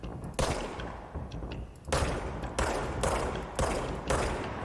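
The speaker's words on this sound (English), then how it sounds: "Friggin' sniper is what that is." Heavy gunfire in the video game Control, a series of loud, sharp shots that crack out at irregular intervals with reverberant tails, close and dominant, with no speech over them.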